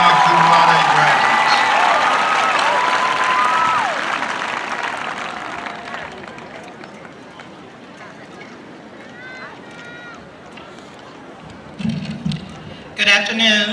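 Graduation crowd at Hoke County High School applauding its magna cum laude graduates in 2016, loud broad clapping that fades over several seconds into murmuring, with voices and a few later bumps of noise.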